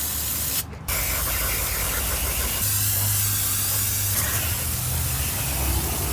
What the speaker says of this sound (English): So now we're just gonna spray it down real quick.